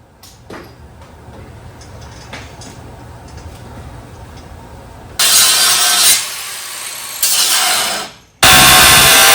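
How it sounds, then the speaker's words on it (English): Loud, harsh grinding bursts on metal during a ladder bar install on a Dodge D100 truck, in several long stretches with a brief pause between them, after a quieter stretch of faint workshop noise. "got to grind it down some more"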